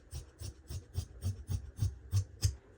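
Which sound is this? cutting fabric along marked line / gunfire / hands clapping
cutting fabric along marked line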